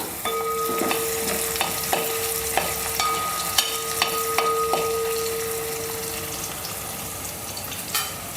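Green chilies fry in a pan with garlic and ginger, hissing in a steady close sizzle as they are stirred, with regular scraping knocks from the spoon.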